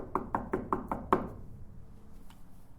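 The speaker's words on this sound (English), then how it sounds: "What time was it when they came knocking at this door?" Five sharp, evenly spaced knocks on a door, fairly close and loud, followed by a quiet, slightly resonant room with a faint later tap.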